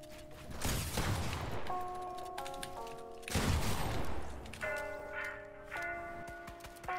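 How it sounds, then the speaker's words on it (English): Video game gunfire crackles in repeated bursts of rapid shots, with heavy volleys swelling twice over a steady backdrop of ringing tones and ambient game sound. "Oh, they're getting shot at."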